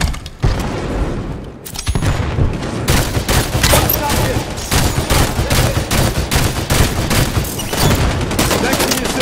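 Rapid bursts of gunfire and booming explosions from the Halo 5 beta, loud and nearly continuous, with a radio-style voice cutting in briefly.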